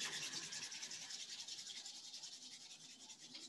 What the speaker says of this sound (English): Allowing the attention to come to the hands and rubbing them together.